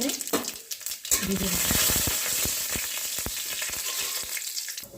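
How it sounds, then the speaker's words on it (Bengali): Dried red chilies and panch phoron crackle in hot oil with a close, continuous sizzle punctuated by sharp pops and stirring clicks. "তেলটা গরম হয়ে গেছে, দিচ্ছি দুটো শুকনো লঙ্কা, আর দিচ্ছি একটু পাঁচফোড়ন"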